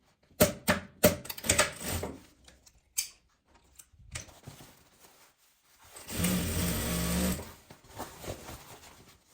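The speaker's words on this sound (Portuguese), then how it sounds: "Eu vou costurar pelo lado do zíper, melhor." A sewing machine stitches along the zipper of a handmade fabric travel bag, running in short clicking bursts and then one longer steady run, close and fairly quiet, with no talking.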